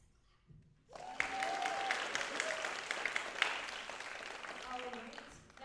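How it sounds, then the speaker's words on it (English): An audience at a live pole theatre competition breaks into applause after a short hush, a dense crowd of clappers swelling quickly and holding steady with a few cheers before tapering slightly. "That's a clap."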